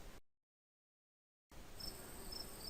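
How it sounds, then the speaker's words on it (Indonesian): Crickets chirp in a steady, dense chorus at night beside a forest edge, a close, even buzz that starts suddenly after a brief stretch of silence. "suara jangkrik bersautan"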